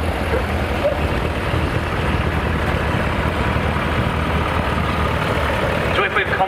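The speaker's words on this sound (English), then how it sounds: "Two tractors built to compete with each other, and just going in front of the commentary box is one of the red and grey ones." Vintage Massey Ferguson 35 tractor engine running in a rally arena, a loud steady low diesel rumble that continues without a break and is heard close by.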